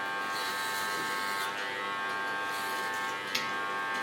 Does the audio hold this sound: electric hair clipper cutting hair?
yes